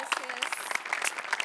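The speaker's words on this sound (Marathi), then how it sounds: "सचिन सरांसाठी एकदा जोरदार टाळ्या" An audience at a Marathi comedy show applauds, a short burst of clapping mixed with a voice speaking over it.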